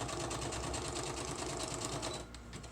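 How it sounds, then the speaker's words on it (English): A sewing machine stitches over cheesecloth on junk-journal paper with a fast, even mechanical rattle that runs steadily nearby and then slows and softens near the end. "I'm going to sew right over that cheesecloth, and I'm stitching down the edge at the same time"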